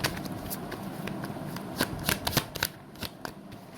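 Tarot cards being shuffled by hand, a soft continuous riffle with crisp slapping accents clustered in the middle, close and alone with no talk.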